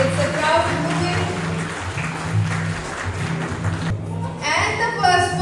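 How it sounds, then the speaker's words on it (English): At a Pakistan School event in Seeb, an audience claps steadily for a student receiving first place, with the applause sustained throughout and mixed with crowd noise and a low hum. "Please give her a big round of applause."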